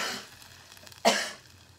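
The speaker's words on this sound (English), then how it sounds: "I told you about the coughing." A single sharp cough stands out, set off by frying chili and spices while chicken enchiladas cook in bone broth; it is near and fairly loud, with a faint breathy sound before it and quiet kitchen hiss after.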